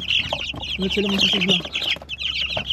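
Chickens cluck and chatter in a backyard flock alongside ducks, giving close, busy bursts of clucks, while a person speaks briefly over them.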